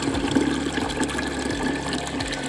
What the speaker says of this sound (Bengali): এই যে জল ভরে এসছে